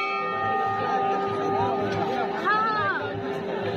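A temple bell rings at Kedarnath temple with a sustained metallic tone over a bustling crowd of voices; chatter continues throughout.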